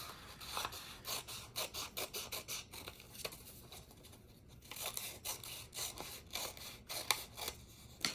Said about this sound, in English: you're going to use your scissors and you're going to cut through both layers at the same time